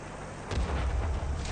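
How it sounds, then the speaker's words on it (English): In a video game, an artillery shell lands as a single heavy boom about a third of the way in, followed by a rumbling low tail over steady background noise. "That artillery does not like me."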